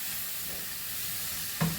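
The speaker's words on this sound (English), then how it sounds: "Slowly fry the bacon." Bacon frying slowly in a pan, a steady soft sizzle and crackle heard close up, with a brief louder scrape or stir near the end.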